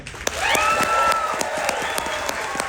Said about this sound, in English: How many people, by a round of applause, were at my show yesterday?